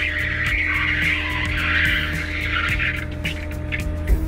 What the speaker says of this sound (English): let's get the bed out and down, right underneath the bottom of the car